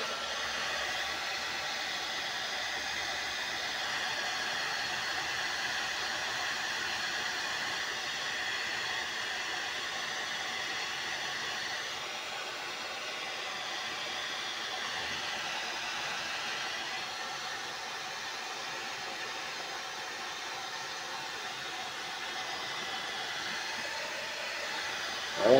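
A heat blower warming a vinyl decal on a motorcycle runs continuously for the whole stretch, a steady airy roar with no breaks, near and even in level.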